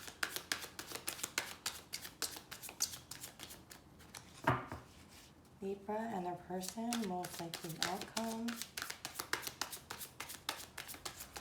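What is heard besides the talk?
shuffling tarot cards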